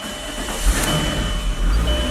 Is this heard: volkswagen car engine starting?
yes